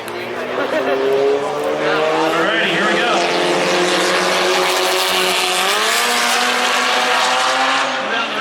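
Race cars roar past at Bandimere Speedway during a Street Car Takeover event, engines revving loud and close with rising pitch and sustained high-speed whine, a voice talking over the noise.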